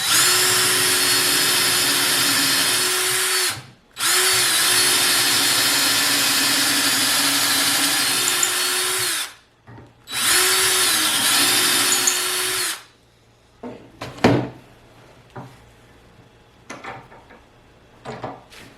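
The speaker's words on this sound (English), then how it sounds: "So all of the holes are drilled" A power drill whines loudly and steadily while boring dowel holes through a Dowel Max jig, in three long runs separated by short pauses, followed by scattered clunks and knocks of handling.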